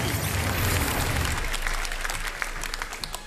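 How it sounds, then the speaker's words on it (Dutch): An audience at a Dutch-language show applauds, a dense burst of clapping that starts loud and full and gradually thins and fades over a few seconds. "En ik hoor het aan het applaus."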